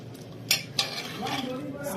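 A spoon stirs stew in a metal pot after butter is added, with two sharp clinks against the rim followed by a continuous scraping stir, close and moderately loud.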